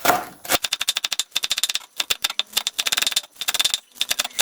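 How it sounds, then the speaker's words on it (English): Rapid knife chopping of spring onion greens on a board into small pieces, crisp close strokes in fast even bursts with brief pauses between runs. "The green part we cut to even smaller section."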